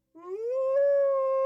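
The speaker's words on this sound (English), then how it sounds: "Nathan continued to howl from inside his room, his voice agonized" A werewolf howling in agony, a single long, sustained tonal howl that rises at the start and then holds steady and loud, heard close and alone.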